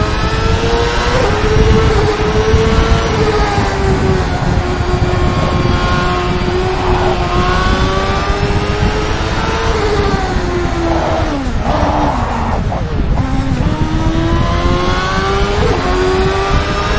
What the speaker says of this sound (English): You'll probably see and hear the wheel vibrating once I get up to speed again here.